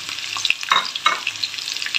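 Onions sizzling and frying in hot oil with mutton in a pan, with steady crackle and several stirring scrapes, close and fairly loud.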